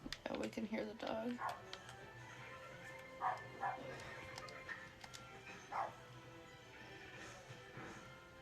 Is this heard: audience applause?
no